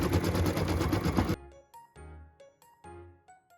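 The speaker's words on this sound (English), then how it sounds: "So it's just stitching that placement line so we know where to put this felt." An embroidery machine stitches a placement line, starting with a fast, dense mechanical whir. It then breaks into short separated bursts of stitching with ringing tones and quiet gaps between them.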